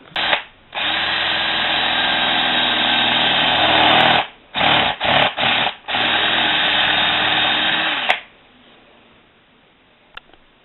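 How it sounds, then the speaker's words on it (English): A mill bit neatening a drilled hole: a loud, steady power-tool whine running for several seconds, briefly stopping and restarting in quick stutters, then a longer run before cutting off into quiet. "the mill bit's going to go all around here and neaten this up"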